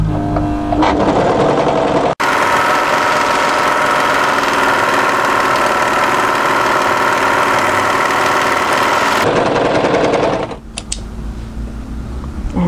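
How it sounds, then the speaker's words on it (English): An overlocker runs steadily on the hem seams of a crop tailored knit military jacket, a loud dense motor whir lasting most of the stretch, with a brief pause early on and a stop near the end before handling noises. "we're going to overlock those as well"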